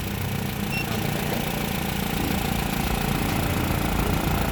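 A Honda Civic four-cylinder engine idles steadily and evenly in a garage, a continuous mid-level drone held for the whole stretch with no speech over it.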